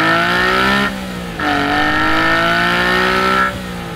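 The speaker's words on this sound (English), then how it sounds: "RPM lunatic that you can't even see totally dominates the driving experience with some of the nastiest, filthiest, dirtiest, most outspoken engine noises" A Honda Beat kei car's small high-revving engine screams near its limit, a loud, raspy, continuous wail that dips briefly between gear changes and then climbs again, heard close up without talk.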